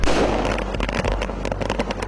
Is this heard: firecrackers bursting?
yes